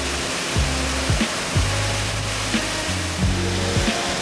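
A waterfall on Japan's Izu Peninsula pouring beside a hot spring, a constant dense rush of falling water with faint low tonal sounds in the background and no talking.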